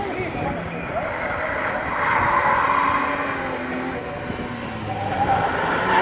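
A Volvo turbo diesel autocross race car, its 1.6 engine swapped for a 2.8, drones and revs at a distance with rising and falling pitch, under a commentator's voice.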